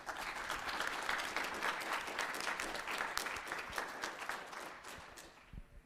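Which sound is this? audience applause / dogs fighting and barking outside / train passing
audience applause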